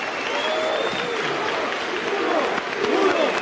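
Audience applause at a Mexican political event, a steady wash of clapping from a large crowd lasting throughout, fairly loud and continuous with some crowd noise mixed in.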